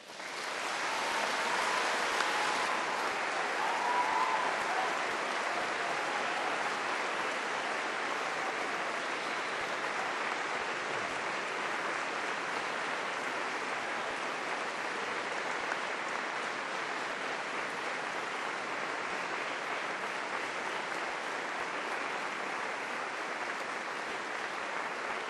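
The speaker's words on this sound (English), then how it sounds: "applause" Long, steady applause from a graduation audience at Cardiff University honoring family and friends, an even hiss-like wash of many hands clapping at moderate distance throughout.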